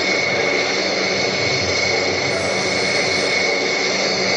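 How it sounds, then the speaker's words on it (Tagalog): A jet airliner's engines roar steadily at full thrust during takeoff in a flight simulator game, a loud, continuous broadband rush with a high whine running throughout. "Let's try takeoff, bro."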